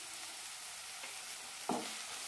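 Roasted coriander powder and piriyan chili powder sauté in a pan for an ivy gourd curry, giving a faint, steady sizzle with one brief scrape of a spoon near the end.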